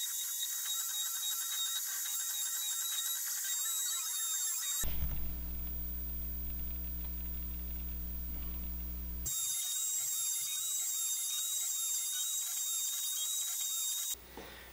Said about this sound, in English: I'm just going to use my baby CNC to machine some slots in this piece